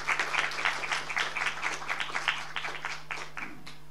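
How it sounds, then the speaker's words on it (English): A room of workshop attendees applauds steadily, a moderate mass of overlapping claps that holds level before tapering off, with a low steady hum underneath. "A big round of applause to everyone."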